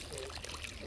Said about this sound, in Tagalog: So yan, tubig po natin, napakalinis.